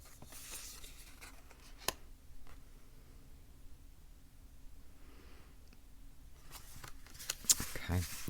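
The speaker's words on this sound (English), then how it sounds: "let's give them a shuffle" Soft riffling and rustling of tarot cards being shuffled close by, with faint papery flicks and a few sharper taps, quiet overall.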